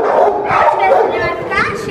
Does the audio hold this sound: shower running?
no